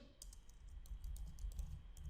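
Fingers type on a computer keyboard in a quick run of soft, close key clicks, faint and steady with no talk.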